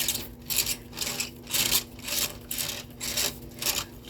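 A spatula scrapes excess icing off a cake in repeated rhythmic strokes, each a close, raspy swipe with short pauses between, about seven passes in a row.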